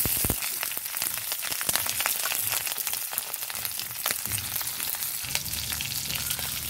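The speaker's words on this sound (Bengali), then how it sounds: "সামান্য পাঁচ ফোড়ন, দিয়ে দিচ্ছি কাঁচামরিচ," Panch phoron and green chilies crackle and sizzle in hot oil alongside bay leaves, a dense close frying hiss with rapid pops and a few stirring sounds, steady throughout with no voices.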